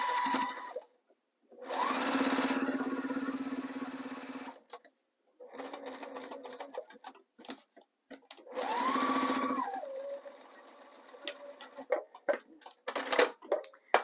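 Sewing machine back stitching a zipper pouch, running in several bursts of steady whirring separated by pauses, with ticks and clicks between; close and fairly quiet.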